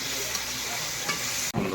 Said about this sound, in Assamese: আলু আৰু মাংসৰে ভাজি আছোঁ মই।